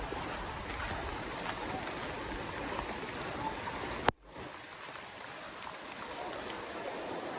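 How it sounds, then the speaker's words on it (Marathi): Fast floodwater rushes past a bridge during a flood in Chiplun, a steady broadband roar of flowing water close by that runs the whole time, broken briefly by a sharp knock near the middle. "आणि हा पाण्याचा फ्लो बघा."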